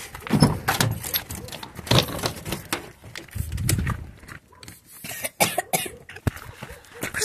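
Keys jangle in scattered metallic bursts during a hurried unlocking, broken up by a few coughs and throat clearing at close range.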